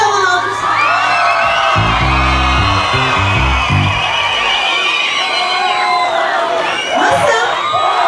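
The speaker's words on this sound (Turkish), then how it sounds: "Kocaman alkışlar" A large outdoor crowd cheers and whoops at a concert during the Kuzu Kırkma (sheep-shearing) Festival in Beytüşşebap, with loud, dense, sustained shouting. A low musical rumble rises briefly under it partway through.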